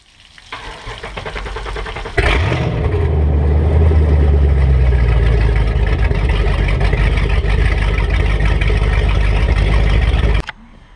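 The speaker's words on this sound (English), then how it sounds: "and now we're going to run the engine." A Mercruiser 8.1L 496 sterndrive marine engine, run on a garden hose during winterizing, starts with a sharp catch and settles into a loud, steady rumble that continues close up for several seconds before cutting off.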